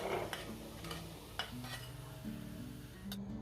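Fried onions being scraped from a frying pan into a bowl while cooking a Bengali fish kalia, with a steady low sizzle of hot oil and light spoon scrapes and metal clinks.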